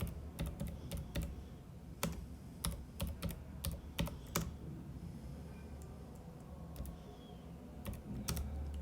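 Close clicking of a computer keyboard as a topic is typed, bursts of quick keystrokes with short pauses between, over a low steady hum, no voices.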